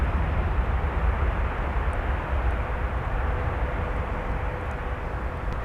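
An American Airlines A321 airliner coasts in to land, producing a steady broad engine roar and rushing rumble that stays fairly loud and unbroken from start to end.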